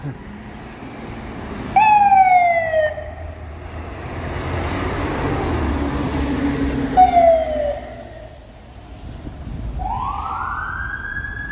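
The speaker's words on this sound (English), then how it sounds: "Hearing lots of sirens so far." Emergency vehicle sirens sound repeatedly over street traffic in downtown Toronto at night during light snow: descending wails twice, then a rising whoop, loud and nearby.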